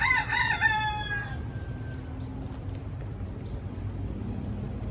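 A rooster crows once, a loud drawn-out cock-a-doodle-doo fading into a steady outdoor background hum.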